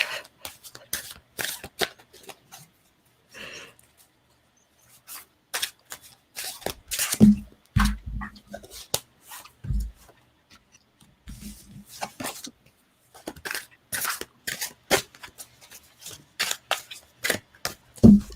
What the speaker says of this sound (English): All right. I'm going to use these cards.